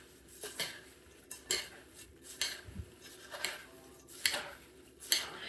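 A hash brown casserole mixture is gently tossed in a bowl, giving irregular clinks and scrapes of a utensil against the dish, several sharp taps spread across a quiet background.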